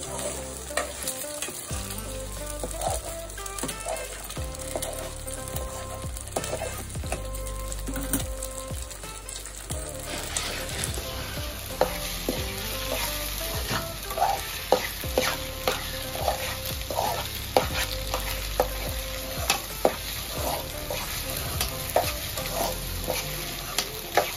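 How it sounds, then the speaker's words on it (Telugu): Eggs fry in oil with ginger and garlic for an okra egg scramble, a steady close crackling sizzle broken by repeated scraping and stirring of a spatula against the pan, with no talking. "ఆయిల్ వేసుకొని అల్లం వెల్లిపాయ వేసుకున్న తర్వాత ఎగ్స్ వేసుకోవాలి. కొంచెం ఫ్రై కానివ్వాలి ఇవి"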